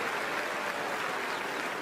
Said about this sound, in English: Round of applause for Danica Patrick, ladies and gentlemen